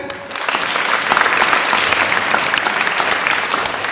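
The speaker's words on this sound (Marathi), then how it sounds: "आपण या सगळ्या मुलांसाठी टाळ्या वाजवाय का?" A crowd at a children's storytelling programme applauds loudly and continuously for the children, dense clapping filling the space alone without speech.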